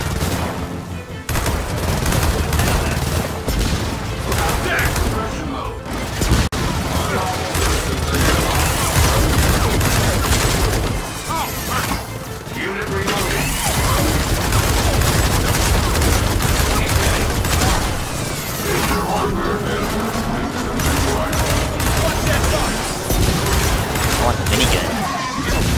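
A minigun roars in sustained, dense bursts during a Gears of War 4 campaign battle. The heavy firing runs loud and nearly nonstop, broken by a few brief gaps, with explosions and game effects mixed in.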